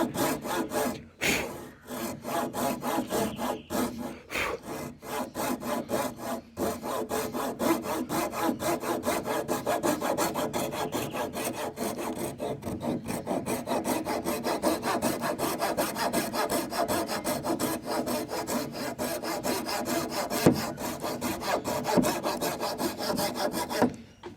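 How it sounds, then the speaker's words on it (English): A tenon saw cuts a wooden joint in steady, rapid back-and-forth strokes, loud and close, with a brief pause near the start and no talk. "I might keep going with the tenon saw as opposed to the hand saw"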